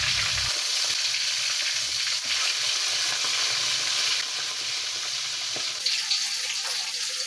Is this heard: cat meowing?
no